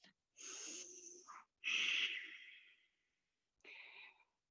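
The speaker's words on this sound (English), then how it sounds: "we'll take 3 cycles of breath" Slow, deliberate yoga breaths taken outdoors in a park, heard as three close, airy exhales and inhales with a slightly wheezy, nasal hiss, separated by clear pauses of silence.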